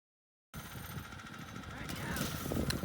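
A Predator 301 engine on a child's go-kart starts after a moment of silence and then drones steadily, growing louder as it revs up, fairly distant with a voice talking over it.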